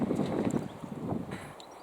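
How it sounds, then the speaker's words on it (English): Gusty wind in a kitchen garden in Taunton Deane buffets the microphone in low rumbling surges, fairly faint, with a few light knocks in the background. "we might have to go in the shed, it's so windy."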